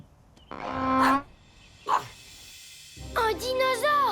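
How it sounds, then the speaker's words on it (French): A dog barks and yips in a few short bursts separated by pauses, close by, with some brief vocal sounds mixed in. "Doug, mais qu'est-ce qui te fait aboyer?"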